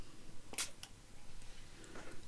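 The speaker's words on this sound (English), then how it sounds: "I'm going to come back in now with my Distress Oxide spray in Speckled Egg" Short bursts of Distress Oxide ink spray in Speckled Egg misted onto a mixed media background, two quick hissing pumps close by, followed by faint handling noise.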